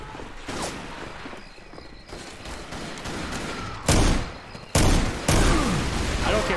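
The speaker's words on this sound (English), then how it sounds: "I'm just gonna shoot it anyways." Gunfire in the zombie shooter Left 4 Dead 2, a few loud close shots after a stretch of quieter ambient movement, each sharp and heavy.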